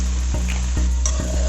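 A spoon stirring beef pepper fry with garam masala in a pan, steady close sizzling broken by regular soft scraping strokes against the metal, about four in quick succession.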